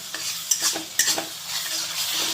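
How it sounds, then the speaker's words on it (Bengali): Spices with salt, turmeric and chili powder sizzle steadily in a hot pan while a spoon scrapes and stirs them, close and continuous with no talking. "আমি ভালো করে আর একবার কষিয়ে নেব"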